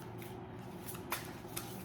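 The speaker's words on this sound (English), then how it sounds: "Let me shuffle the cards." A deck of tarot cards being shuffled close by, a steady soft riffling and rustling with two sharper snaps near the end, no talking.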